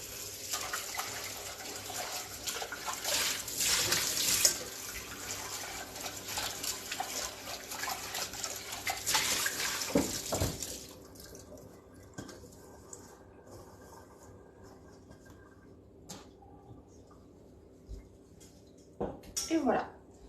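A small saucepan rinsed under a running kitchen tap: steady broadband water rush with scrubbing and splashing for about ten seconds, then the flow stops, leaving quieter drips, clinks and handling noises, with a brief final burst of water.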